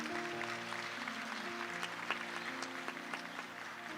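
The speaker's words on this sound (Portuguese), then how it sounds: "Pode aplaudir? Pode aplaudir?" Quiet applause from a church congregation, steady clapping heard at a distance with a faint musical tone underneath.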